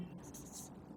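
A marker or chalk scratches quick strokes across a board in a classroom geography lesson, a brief, dry scraping at close range over a soft background murmur.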